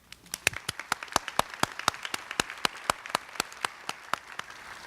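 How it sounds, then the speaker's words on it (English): A single person clapping in a steady, evenly spaced rhythm of about twenty sharp claps at a college fall convocation, close and distinct over a quiet room. "Yes, you can give yourselves a round of applause."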